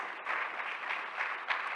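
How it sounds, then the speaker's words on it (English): A conference audience at a plenary session of a business summit claps steadily, a sustained wash of applause with no talk over it. "Don't stop clapping until she has taken this microphone."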